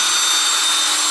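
Power drill fitted with a spade bit churns resin for casting into 3D printed molds, a steady, loud, unbroken high-pitched whir with grinding texture running throughout, no voices.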